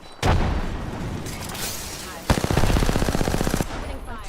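Sustained video game gunfire during a ranked console match, dense rapid automatic bursts with a sharp loud onset and another burst starting mid-way, no talk.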